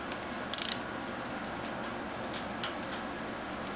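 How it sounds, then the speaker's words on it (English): A Cobalt 3/8-inch drive torque wrench tightens bolts on a motorcycle during a chain replacement, giving a quiet ratcheting tick and a short metallic clatter over steady room hum. "now I'm going to torque these down"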